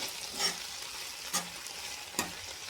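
Okra fries with green chilli paste in a pan under a soft continuous hiss, while three separate stirring strokes scrape through at a slow, even pace.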